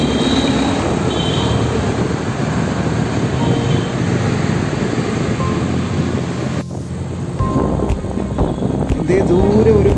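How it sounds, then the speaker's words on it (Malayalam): A metro train runs in the distance near Kalamassery in Kochi, a steady broad rumble heard from a moving vehicle. Wind buffets the microphone throughout, and the noise shifts briefly partway through. "ദൂരെ ഒരു മെട്രോ ട്രെയിൻ പോകുന്നതായിട്ട് നമുക്ക് കാണാൻ സാധിക്കും."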